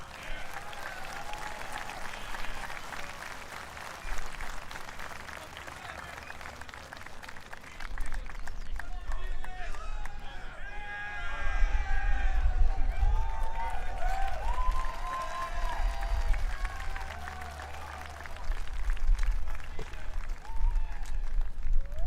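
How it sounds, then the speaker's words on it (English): Crowd applause at a military academy change of command parade, a steady outdoor clapping that swells louder partway through, with voices and band-like tones mixed in underneath. "Let's give one more round of applause for our 8th grade class."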